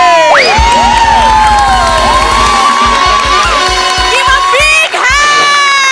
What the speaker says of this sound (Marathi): जोरदार टाळी स्वागत करा या नटाचं